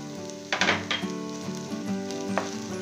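Sago and chana dal sundal with grated coconut is stirred in a hot pan over raised heat, a soft sizzle under steady hum broken by a few scraping stirs.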